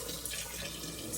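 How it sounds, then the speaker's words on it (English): Cold tap water runs steadily into a sink over a pot insert of hot farm fresh eggs, a close, continuous splashing stream with no voices. "as cold water as I can get out of my tap over the eggs for several minutes"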